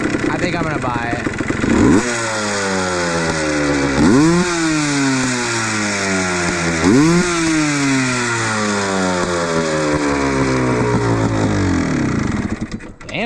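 A Yamaha Blaster two-stroke engine revs up hard three times and falls back toward idle in between. It sounds raspy and buzzy, loud and close, with people talking over it.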